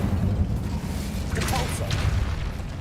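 Fiery spell cast in Hogwarts Legacy: a whooshing burst of flame rises near the middle of the clip over a steady rumble of game sound and background music.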